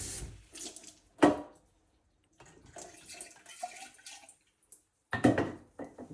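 Cold water is poured into a bong to refill it, coming in short splashing bursts separated by quiet gaps, with gurgling and faint trickling between the louder pours.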